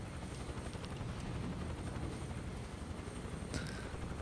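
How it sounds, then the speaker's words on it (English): A helicopter in Microsoft Flight Simulator 2024 whirs steadily, its rotor and engine making a dense, continuous broadband drone with a faint high whine, heard alone without speech. "So I'm going to move the helicopter a bit."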